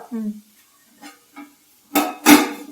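Curry stirred in a pot in a home kitchen: a few soft scrapes early on, then two louder clattering strokes of a spoon against the pot near the end, with a voice heard briefly at the start.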